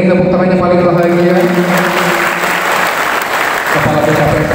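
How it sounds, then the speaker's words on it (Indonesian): Loud, sustained audience applause at a civil servant (PPPK) inauguration ceremony in Banyuasin Regency, steady clapping throughout with faint voices beneath. "Boleh kita ini tepuk tangannya paling bahagia"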